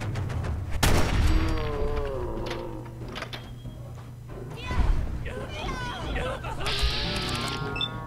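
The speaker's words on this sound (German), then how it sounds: "Da drüben schießen sie." Gunfire from Gunners in the game Fallout 4, shots and distant bursts mixed under a steady game ambience while someone talks through much of it.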